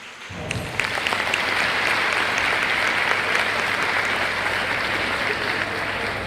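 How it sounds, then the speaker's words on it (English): Students give a round of applause to their parents and teachers at a school gathering, a dense, sustained clapping from a large crowd that starts abruptly and continues steadily throughout. "I'd like every student here to give them a round of applause"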